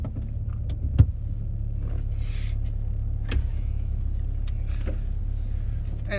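Steady low engine rumble and road noise fill the cabin of a moving car on a warm day, with a few faint clicks and thumps over the constant drone.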